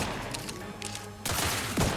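Gunfire in the game The Outer Worlds 2, a sustained burst of rapid shots for over a second, then a sharper louder volley with a heavy blast near the end, all fairly loud and close.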